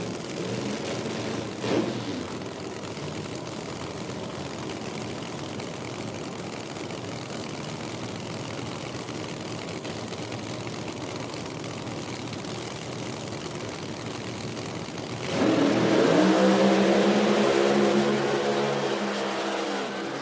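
A Pro Mod drag race car in IHRA qualifying runs down the track. A steady, broad roar builds into a loud, harmonic engine blast near the end that holds strong and close.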